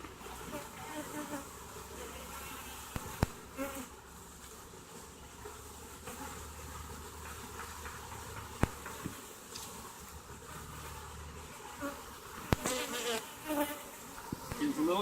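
Honeybees buzz around an open hive on a warm day of about 85 degrees, a continuous low droning hum with a few sharp clicks and knocks scattered through it.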